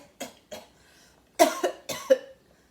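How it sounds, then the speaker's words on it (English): A person demonstrating a cough: several short, dry coughs close to the microphone, two small ones followed by two louder double bursts, with no talking over them. "That's a cough."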